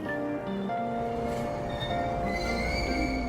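A subway train hums and rumbles along, with steady tonal motor whine rising in pitch and faint metallic squeals.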